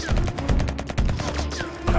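Rapid bursts of gunfire from the video game Until We Die, loud, dense and continuous over about two seconds with heavy low booms, no talk.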